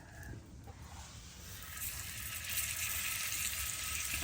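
Rouladen fry and brown in a pan, a steady close sizzle and hiss that grows slightly louder as it goes, with no talking.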